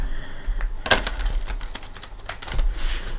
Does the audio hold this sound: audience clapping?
no